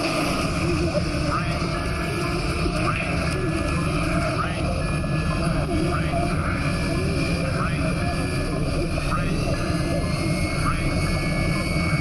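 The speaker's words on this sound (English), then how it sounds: "The ash cloud has blasted the cockpit window. We're landing blind." An airliner lands blind after an ash cloud blasts its cockpit window in a natural disaster movie, with a loud, continuous engine roar and rushing air throughout.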